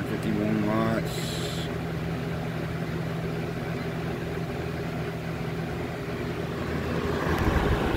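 A 1989-1990 Galaxy 3723 electric fan runs with a steady, even whooshing hum close by. A voice may talk over it.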